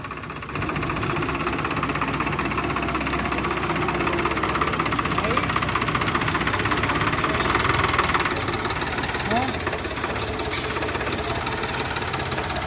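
A Swaraj tractor engine runs steadily with a heavy, rumbling knock while hauling soil trolleys, close and loud, while people talk over it.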